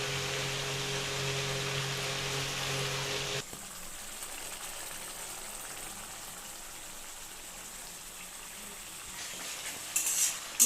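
Peas tipped into spices frying in oil, a busy sizzle that drops abruptly to a quieter simmer, with a brief clatter of a spoon stirring the pan near the end.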